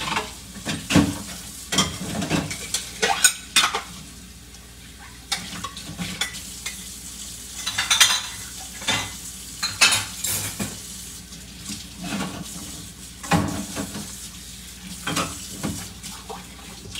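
Plates being washed under running water, with clattering dish and utensil knocks and splashing in irregular bursts over a steady wash of water, close by with no talking.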